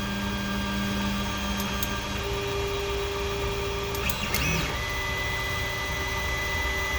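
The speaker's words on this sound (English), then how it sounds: "You can see the printer is almost adjusted its hotbed, and it will start printing in a few seconds." A Creality Ender 5 3D printer hums steadily as it levels its heated bed before a print, with brief motor whirs and clicks partway through, close and moderately quiet, no voices.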